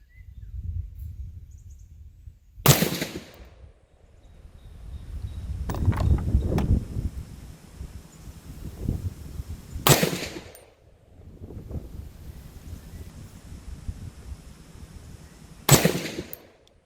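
An AR-10 rifle fitted with a Hiperfire trigger fires three sharp, loud single shots several seconds apart outdoors, with quieter background sounds between them.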